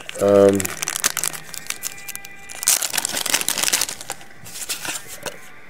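A CD mailer package is torn and opened to pull out a card, giving close, busy crinkling, rustling and tearing that runs for several seconds after a brief voice at the start.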